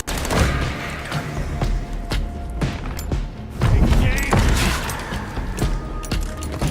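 Grenade blasts and gunfire in the vampire action game Vampire: The Masquerade – Bloodlines 2, a dense run of heavy thuds and booms with one bigger surge midway, continuous and close.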